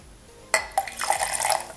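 White vinegar is poured slowly into a pot with a sharp clink followed by a bubbling, fizzing pour. It sounds close and moderately loud with no talking.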